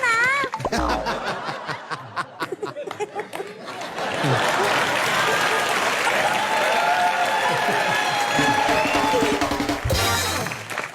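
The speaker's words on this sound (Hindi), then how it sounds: "देख भी रहे हैं मेरे लिए कितनी तालियां बज रही हैं" A studio audience at a Kapil Sharma comedy show claps steadily, mixed with laughter and cheering, with a voice calling out at the start and a brief noise burst near the end.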